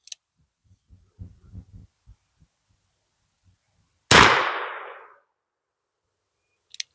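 A single loud, close .44 Russian revolver shot fired at cans outdoors, a sharp broadband blast with a decaying tail, preceded by faint thumps and handling noises and followed by a brief click.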